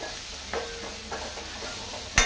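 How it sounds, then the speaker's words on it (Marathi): Garam masala spice paste fries in oil with a soft, low sizzle and a few light stirring scrapes, ending in a sharper clatter against the pan; no one speaks. "आतां ते बरें आपूण तेलान बरो मसालो 1 मिनिट बरो फ्राय करून घेवया"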